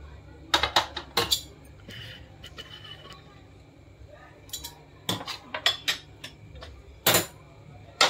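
A pot of boiled milk set down on a side gas burner, producing a few sharp metallic clanks and clinks in bursts, close and loud against a quiet kitchen.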